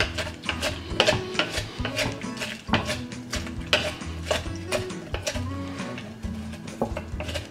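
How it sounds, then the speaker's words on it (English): Celery and garlic are muddled in vodka for a Bloody Mary, giving a rhythmic run of sharp close knocks and grinding scrapes against the glass, steady and loud with no talk. "And then you just muddle that to infuse the vodka with the celery and the garlic"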